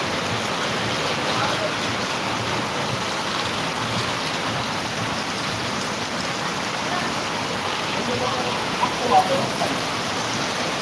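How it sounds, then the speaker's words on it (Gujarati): Heavy monsoon rain pours steadily in Jamkandorna, a dense, continuous hiss of water that never lets up, close and loud throughout. "અત્યારે ધોધમાર વરસાદ પડી રહ્યો છે"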